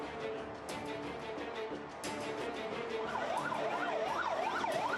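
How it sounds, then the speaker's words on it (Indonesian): Ambulance sirens arrive at Nasser hospital in Khan Younis. A loud wailing tone rises and falls repeatedly over steady traffic noise, growing stronger in the second half, with no one speaking. "Mobil ambulans datang silih berganti mengangkut sejumlah korban ke rumah sakit Nasser"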